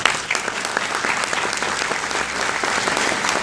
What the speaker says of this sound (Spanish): quiero que te des un fuerte aplauso